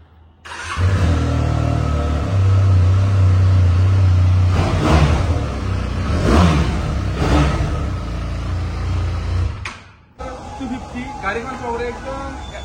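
A Benelli motorcycle engine starts, runs and revs in several rising surges close by, then cuts off near the end, with voices talking over it.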